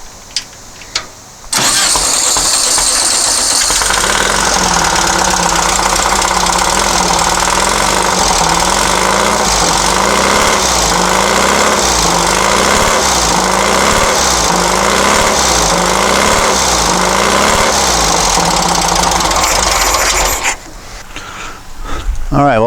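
A dune buggy engine runs steadily at idle after starting up, a loud, rapid, rough chugging that holds for about twenty seconds before cutting off abruptly near the end.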